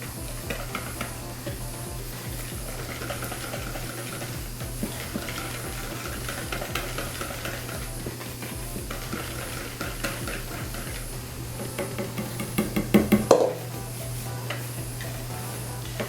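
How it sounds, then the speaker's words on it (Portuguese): Chocolate cake batter being stirred as flour is folded in, a soft continuous mixing swish with faint scraping, and a brief louder clatter near the end. "Nós vamos mexer."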